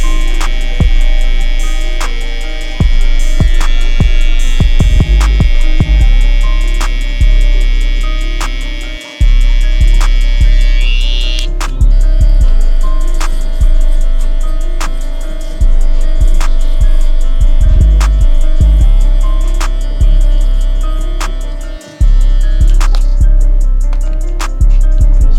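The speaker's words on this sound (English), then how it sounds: "So we'll come in with our trimmer and establish that first line" Barbershop hair trimmer cutting a lineup along the hairline: a steady electric buzz with a high whine, broken by brief pauses and light clicks as the clippers start, stop and move across the head.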